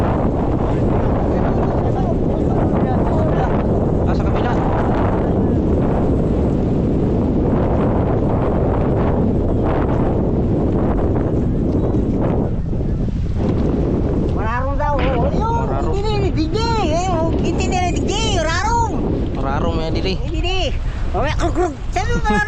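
Strong wind buffets the microphone with a loud, constant roar, while people talk underneath it in the latter half.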